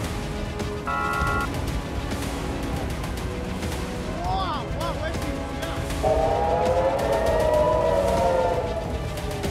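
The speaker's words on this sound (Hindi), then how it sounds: "हिजबुल्लाह के हमलों से इजरायल में रेड अलर्ट के सायरन गूंजने लगे।" Red alert air raid sirens sound in Israel during Hezbollah rocket attacks, rising and falling tones over a busy, noisy background, with a steady wailing siren growing louder in the second half and voices faintly present.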